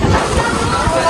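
Strong wind blowing outdoors at a traditional Konkan wedding with a tent, a loud steady buffeting rush with low gusty rumbles, as a voice speaks over it.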